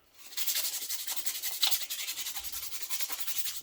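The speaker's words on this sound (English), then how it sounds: "and now I'm using the really fine sand." Fine sandpaper rubs over a wooden knife handle by hand, a close, rhythmic series of quick scratchy back-and-forth strokes, steady and alone.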